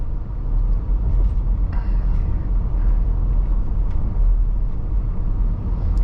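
A 1999 Toyota Land Cruiser cruises below 2,000 RPM, its engine a low steady rumble under road and tire noise heard from inside the cabin, continuous and fairly loud with no gear changes.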